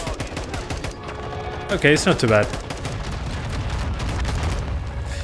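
Gunfire and explosions rumble through a Modern Warfare 2 match in Call of Duty, a dense burst of blasts near the two-second mark over steady battle noise, with someone talking over it.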